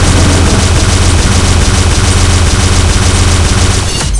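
Automatic laser weapon in Pixel Gun 3D firing a dense, continuous stream of rapid shots, loud and close, a steady machine-gun-like rattle that cuts off near the end.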